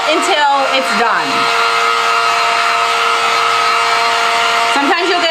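A hair dryer runs continuously at close range, a steady loud whir with a constant whine, blowing to dry crackle paint on wooden heart cutouts for a spring flower craft; brief talk at the start and end.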